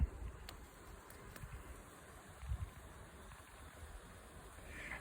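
Honeybees buzzing faintly around an Eco Beehive in the sun, a soft continuous hum with outdoor ambience and light rustling.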